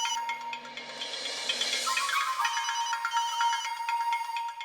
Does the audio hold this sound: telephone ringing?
yes